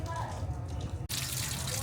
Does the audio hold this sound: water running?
yes